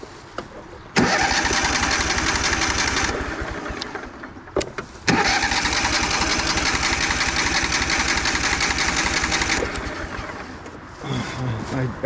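The engine of a 2004 Craftsman DLT3000 lawn tractor cranks and catches, runs briefly, cuts out, then restarts and runs steadily at a loud, close, rough idle before dropping away near the end.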